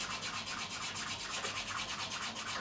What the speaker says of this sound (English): when I've finished sanding these edges with this 400 grit